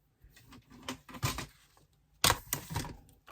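Cardstock is being cut for a scrapbooking birthday card, with short, close, dry cutting and sliding noises coming in uneven bursts, the last ones sharper and louder, and no talking.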